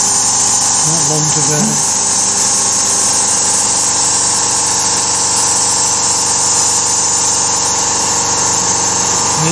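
A Carvera Air desktop CNC machine mills a part with tabs, giving a loud, steady whine and hum throughout, with brief speech near the start over the machining noise.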